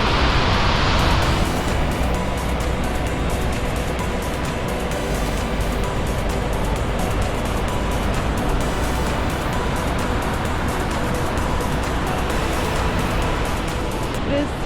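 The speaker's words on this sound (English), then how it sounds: "What an amazing waterfall." A loud, steady roar of rushing water pours on without pause, like a large waterfall in Iceland's Golden Circle heard from close by.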